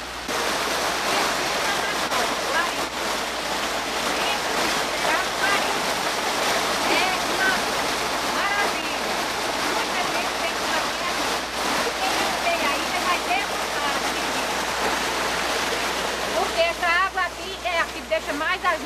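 Mineral water flowing steadily in a natural stream or small cascade, a continuous broadband rushing and splashing that stays loud and close throughout, with a few brighter splashes near the end.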